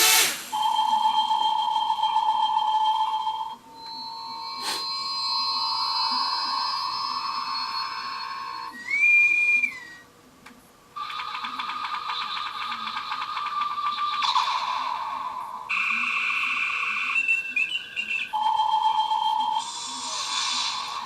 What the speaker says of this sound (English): So a whole bunch of neat little sound effects there.